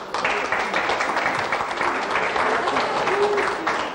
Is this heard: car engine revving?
no